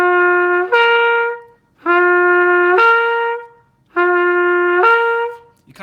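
A trumpet plays three separate two-note slurs from G up to C, each upper note popping in sharply with fast air. The notes are loud and close, played alone with short pauses between them.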